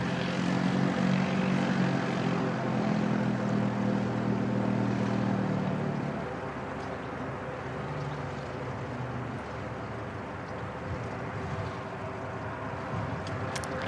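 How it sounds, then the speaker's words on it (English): A C-130 Hercules aircraft moves about Christchurch Airport, its steady propeller-engine drone loud and continuous, stronger at first and then settling to a slightly lower, even rumble with no talk. "Looks like the Herc is on the move"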